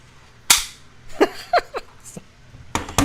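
A battery charger gives sharp, loud clicks in irregular bursts that sound like rapid gunfire, with a few quieter snaps between them and faint voices in the background.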